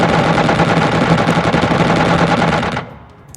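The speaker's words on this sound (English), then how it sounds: "3 missiles away. Make sure it stays out of the firing arc." Aircraft firing a volley of missiles in the Xenonauts strategy game, a loud continuous rapid rattling barrage that cuts off abruptly near the end with no talk.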